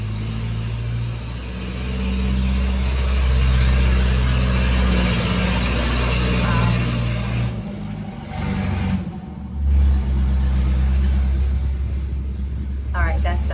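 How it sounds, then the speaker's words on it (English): A truck passes outdoors as a loud, sustained low engine rumble that swells and fades over several seconds, with a brief dip partway through before the heavy drone returns. "A truck going by."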